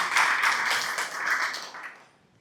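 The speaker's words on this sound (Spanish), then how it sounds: "Un aplauso para ellos." Audience applause rises into a brisk patter of many clapping hands at moderate loudness, holds for about two seconds, then fades quickly to silence.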